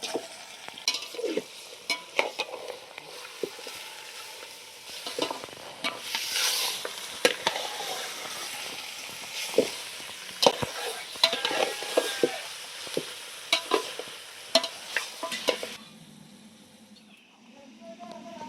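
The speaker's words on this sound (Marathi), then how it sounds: "कांदा चांगला तळून घेतला आता मटण टाकून घेते हळद मीठ लावून घेतलेलं" Mutton frying in a pot with onions, turmeric and salt: a steady close sizzle broken by repeated scraping stirs and clinks, fading to a softer hiss at the end.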